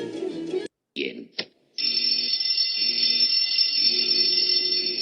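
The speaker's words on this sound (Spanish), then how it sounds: "es la alarma de incendio" A fire alarm rings in a loud, steady electronic tone after a few brief scattered sounds, its ringing pulsing slightly as it continues.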